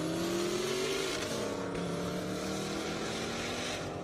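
A 1,200-horsepower Camaro drag car accelerates hard off the line on an airstrip drag race, a loud roaring engine climbing in pitch through the gears, heard from the side with the crowd-area ambience beneath.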